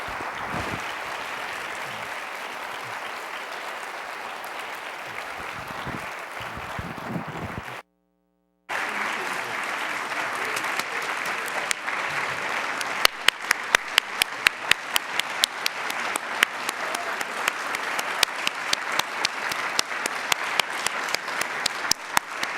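Lecture audience applauding at an annual education research lecture, a steady wash of many hands clapping that breaks off briefly, then resumes with sharper individual claps standing out toward the end.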